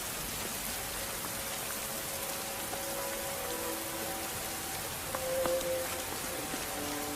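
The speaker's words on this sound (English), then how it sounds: "The auspicious birth of your baby brought rain to Haran." Steady rain pours down over Haran, a soft, continuous hiss of drops on surfaces, fairly faint and even throughout with no voices.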